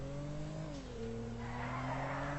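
A Tofaş Şahin car engine in GTA 5 holds a steady tone and then slides in pitch as tires squeal and skid in a drift, loud and close.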